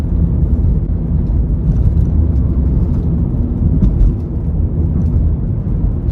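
Interior of a high-mileage car driving on the road after a transmission fluid change, with a steady loud engine and road rumble that dips briefly as the automatic transmission shifts up through the gears.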